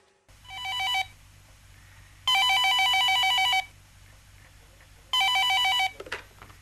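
A telephone bell rings in three loud, close bursts, each a rapid trilling ring about a second long separated by pauses, with a faint clatter after the last.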